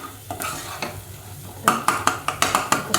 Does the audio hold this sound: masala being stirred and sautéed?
yes